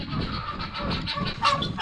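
Poultry calling in a busy yard, overlapping clucks and honk-like squawks at moderate distance, with a louder call near the end.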